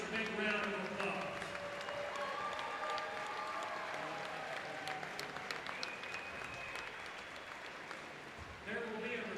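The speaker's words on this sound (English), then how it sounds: "Let's give all of our Hall of Famers a big round of applause." A crowd in a high school gym applauds Hall of Famers, a sustained wash of clapping and cheering that holds steady and then dies down, with voices heard through it.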